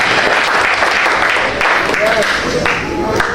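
A church congregation claps in dense, continuous applause that fills the room, with voices calling out over it.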